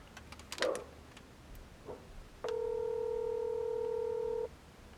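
After a few soft taps and clicks, a telephone gives a single electronic ring tone lasting about two seconds, then falls silent, fairly quiet and close.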